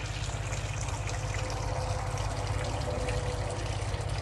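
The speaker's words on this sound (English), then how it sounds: "Nice hot water coming out your tap." Hot water runs steadily from a camper tap, an even rushing trickle that stays constant and fairly quiet throughout, with no voices.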